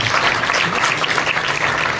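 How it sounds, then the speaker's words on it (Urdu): An audience at a worship service claps loudly and steadily, dense applause filling the whole moment. "اس کے لیے پہلے زوردار تالی بجانا"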